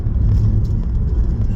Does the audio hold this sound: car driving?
yes